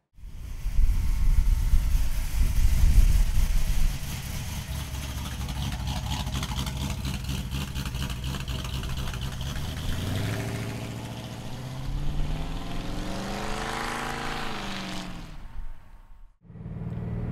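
A 1954 Ford F100 pickup truck engine idles with a steady low rumble, then rises and falls in pitch as it revs before cutting off briefly near the end.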